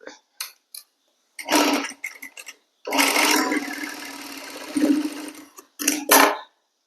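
Sewing machine stitching lined kurti pieces together, running in several bursts of steady mechanical whirring separated by short pauses, close and fairly loud, with a longer continuous run in the middle.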